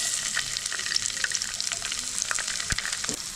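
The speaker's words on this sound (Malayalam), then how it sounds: "എണ്ണ ചൂടായി കഴിഞ്ഞാൽ ആദ്യം ഞാൻ അതിലേക്ക് ചേർക്കുന്നത് ഇതേപോലെ ഒന്ന് അരിഞ്ഞെടുത്ത വെളുത്തുള്ളിയാണ്" Chopped garlic sizzles in hot coconut oil for a Kerala-style lemon and date pickle. The crackle is bright and close, with quick scrapes and taps from stirring running through it.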